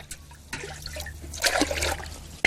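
Water from a bucket trickles and splashes while dishes are washed in a kitchen, a quiet uneven flow with a low hum underneath.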